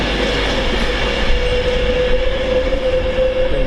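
Avanti Class 390 train from London Euston to Liverpool Lime Street passing through Stafford on the West Coast Main Line, a loud continuous rumble with a steady whine from wheels and motors, close by and without talk.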